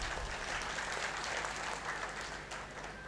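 An audience claps during a political speech at a Bharat Bachao gathering, a faint, distant patter of many hands that holds steady, then thins slightly toward the end.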